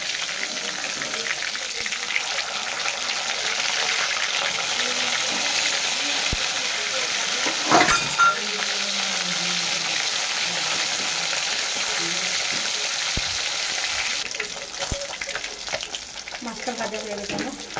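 Pieces of catla fish frying in hot oil in a pan, a loud, continuous close sizzle with a brief clatter midway.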